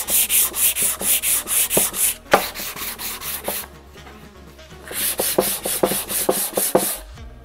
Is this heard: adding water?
no